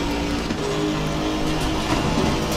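Race car engine in the sim racing game Assetto Corsa Competizione during a three-hour Monza race, a loud, sustained drone that holds steady throughout.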